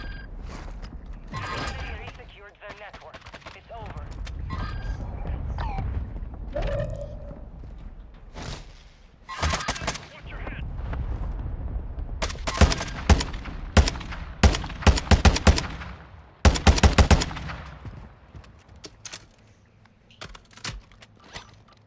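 Call of Duty match on Ashika Island, with irregular bursts of rapid gunfire and clattering mechanical noise, loudest in tight volleys toward the second half, mixed with players' voices.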